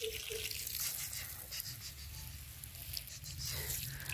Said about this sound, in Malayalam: നമ്മുടെ പുല്ല് നനയ്ക്കാട്ടോ